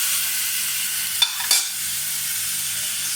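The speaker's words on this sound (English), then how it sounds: "Just saute it" Beetroot sizzles steadily in a hot pan, a soft continuous frying hiss broken by two quick scraping stirs of a utensil partway through.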